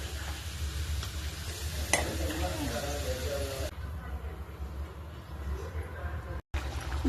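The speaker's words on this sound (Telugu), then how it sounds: "రొయ్యలు ఇలా వేగితే చాలండి" Prawns frying in peanut oil in a pan give a steady, fairly quiet sizzle with small ticking pops throughout, broken by one brief dropout near the end.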